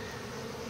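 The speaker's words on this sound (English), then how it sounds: "We now have bees running into the box, fanning towards the box." Honeybees fan at the entrance of a hive box in botanical gardens, a steady close buzzing drone that runs without a break.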